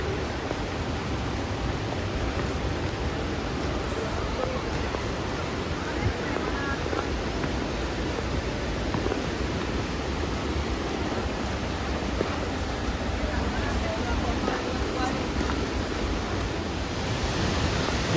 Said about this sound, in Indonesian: Ini namanya air terjun bidadari